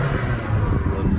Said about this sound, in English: Might just be able to hear the engine there as well.